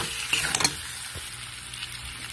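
Potatoes frying in a pan with coriander and cumin powder stirred through, a close sizzle with a few sharp scraping clicks of the spatula early on, then a softer steady fry.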